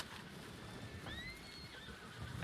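A ridden horse in the video game Red Dead Redemption gives a clear, fairly close whinny that rises and trails off, over a soft background of hoof clip-clop and ambient noise.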